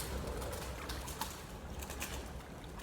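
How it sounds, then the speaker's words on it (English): Doves coo faintly in the distance over a soft, steady outdoor background hiss, with no talking. "It's doves."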